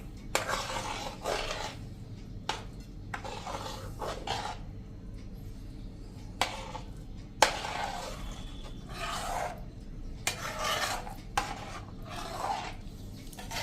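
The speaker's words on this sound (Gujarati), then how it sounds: "હવે એને આપણે સરસ મિક્સ કરી લેશું" Custard apple pulp being stirred into thick basundi with a spoon in a pot, soft scraping strokes and occasional light clinks of metal against the pan, repeated steadily and fairly quiet.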